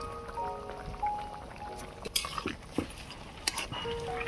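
Raw prawns drop into a pan for an eggplant prawn curry and are stirred, giving a scatter of light scraping clinks and soft taps from the utensil against the pan over a low background.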